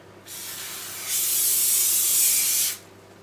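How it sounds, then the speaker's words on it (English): A close, steady hiss of oil sprayed onto chicken pieces for butter chicken, one continuous burst lasting about a second and a half, with a softer hiss leading in. "again we are going to spray some oil on them."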